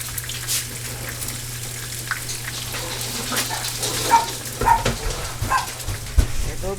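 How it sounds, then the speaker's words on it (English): Several dogs bark a few scattered times in the distance, heard over the soft sizzle of raw beef stir-frying in a home kitchen. "There go the dogs."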